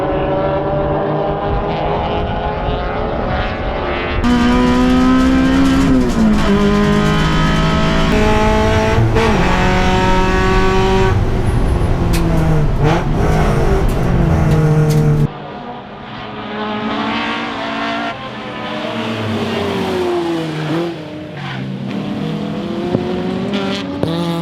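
Improved production touring race cars at Baskerville circuit roar past lap after lap, loud engines rising and falling in pitch through gear changes as several cars pass close by, with no talk.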